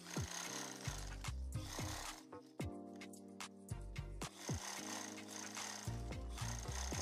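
A sewing machine stitches a kurti seam in repeated runs, its motor whirring steadily for a second or two, then pausing with clicks and thumps before starting up again, close and clear.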